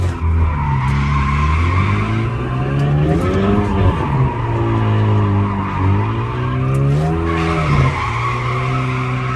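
An automatic car drifting, its tires skidding and squealing continuously for the whole stretch, loud and close, while the engine pitch rises and falls with the slides.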